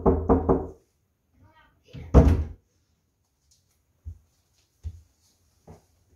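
Knocking on a door follows a stretch of talking, with a loud cluster of thuds and then three sparse single knocks spaced about a second apart, near and fairly strong.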